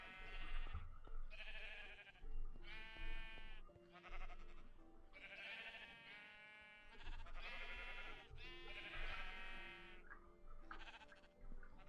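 Sheep in a block-building video game bleat over and over, several drawn-out wavering calls following one another closely and sounding loud and near, with no talk over them.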